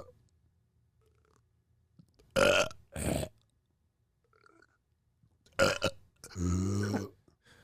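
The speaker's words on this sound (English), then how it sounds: "Are you guys burping?" People burp in separate bursts: two short, loud belches close together, a pause, then another short burp followed by a long, drawn-out rumbling one, all near and clear against silence.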